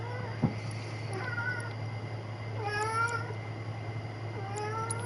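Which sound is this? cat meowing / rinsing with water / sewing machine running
cat meowing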